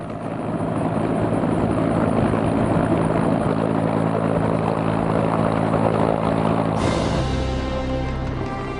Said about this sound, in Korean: 안전을 이유로 헬기는 한 대씩 이륙하게 된다.